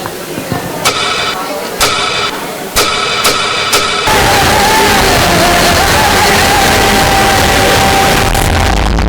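An audience at an inter-school dance competition erupts into loud, sustained applause and cheering that swells into a dense continuous roar, after a few sharp bursts of sound.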